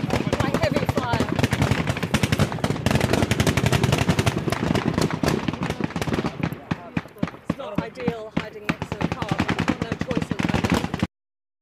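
Sustained machine-gun and rifle fire in a Syrian conflict zone, rapid bursts of close, loud shots rattling continuously with scattered single cracks and faint voices beneath.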